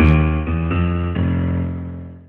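Piano playing a low left-hand blues octave pattern in F, a few stepped bass notes rising then dropping, loud and sustained with no talking.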